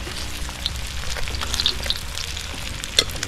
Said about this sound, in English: The last set of frying this, yeah.